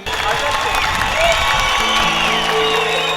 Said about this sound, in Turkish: Onlara alkışlar gelsin